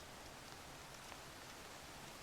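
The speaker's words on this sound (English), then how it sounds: "Oh, it's raining here now." Steady rain falling in the video game Horizon Forbidden West, a constant soft hiss of drops on surfaces, even and fairly quiet throughout with no talk.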